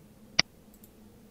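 A single crisp computer mouse click sounds up close against a quiet background.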